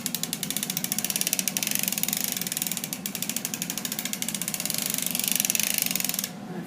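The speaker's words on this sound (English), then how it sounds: "I'm going to crank forward slowly for this first row." A hand-cranked sock knitting machine turning forward slowly on its first row after a heel, giving a steady, close, even run of rapid mechanical clicks and ratcheting that stops near the end.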